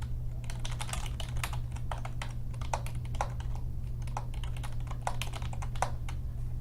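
Steady, rapid typing on a computer keyboard while code is written, close and clear, keys clicking in an uneven stream over a low constant hum.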